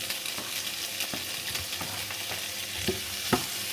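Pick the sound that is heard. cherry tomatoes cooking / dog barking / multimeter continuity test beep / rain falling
cherry tomatoes cooking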